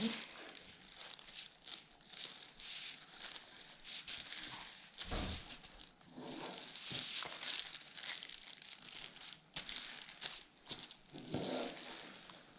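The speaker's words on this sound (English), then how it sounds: "Crease it. fold it back down." Origami paper is creased and folded for a baby Ryujin model, giving continuous close crinkling and rustling with sharper creasing snaps and brief pauses, and no speech over it.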